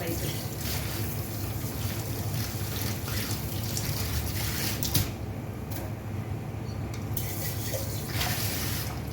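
Hot water runs steadily from a kitchen tap into a sink, a continuous broadband rush with small splashes near the middle, close and fairly loud throughout.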